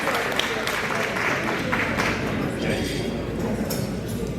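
An audience applauds a community volunteer at an Indo-American community event celebrating America's 250th anniversary of independence. The crowd noise is dense and fairly close, with voices mixed into the clapping.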